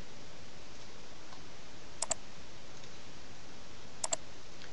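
A computer mouse gives two pairs of sharp, quiet double clicks about two seconds apart against a faint steady room hiss.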